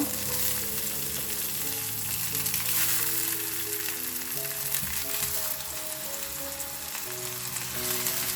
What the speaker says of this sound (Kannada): ಫ್ಲೇಮನ್ನು ಲೋ ಅಲ್ಲಿ ಇಟ್ಕೊಂಡು ನಾವು ಕಟ್ ಅಂತ ಟೊಮ್ಯಾಟೋನ ಇದ್ರ ಒಳಗಡೆ ಇಟ್ಕೊಳ್ಳೋಣ